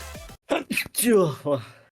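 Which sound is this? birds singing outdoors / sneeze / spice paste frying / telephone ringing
sneeze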